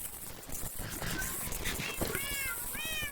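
Kittens in the SurvivalCraft video game give several high, rising meows near the end, heard over a steady background hiss.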